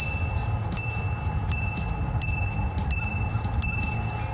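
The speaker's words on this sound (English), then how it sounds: "We also got a little bell over here." A small bell on an electric bike dings six times at a steady, unhurried pace, each bright ring fading quickly over a low rumbling background.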